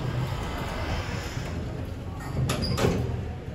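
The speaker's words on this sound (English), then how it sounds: "Doors opening." Lift doors slide open on a Keighley Mod Elevation lift in a Fenwick store, a steady close mechanical whoosh and rumble lasting several seconds with a brief rattle near the end, no talking.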